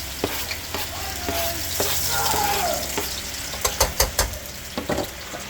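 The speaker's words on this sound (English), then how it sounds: "Brown up the garlic." Garlic sizzling and frying in a hot pan while being stirred, a steady loud crackle with a few sharper scraping and clinking knocks from the utensil toward the end.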